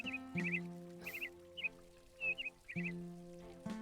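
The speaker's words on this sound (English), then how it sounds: "A group of peacocks. Thanks for the sound effects." Peacocks call as a sound effect in a video game, with short, bright bursts repeated several times in a loose rhythm over a soft, sustained tonal backdrop.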